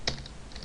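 A few quick keystrokes on a computer keyboard while writing Java code, soft close clicks with one sharper tap at the start, no talking.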